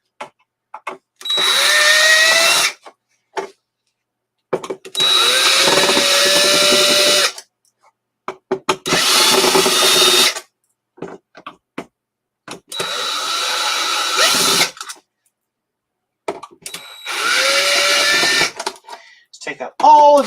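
A power drill removing the outer case screws from an Apple IIe computer, loud whirring bursts of about two seconds each, five runs separated by short pauses, close up with no talk over them.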